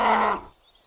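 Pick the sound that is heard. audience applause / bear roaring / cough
bear roaring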